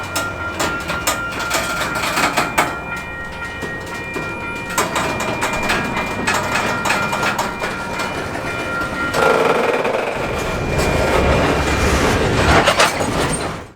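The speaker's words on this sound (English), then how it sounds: "this coal train could begin moving again" An empty Canadian Pacific coal train with five locomotives accelerates on the Windermere Subdivision, engines droning loudly and close while wheels clatter in a steady rhythm, building in intensity toward the end.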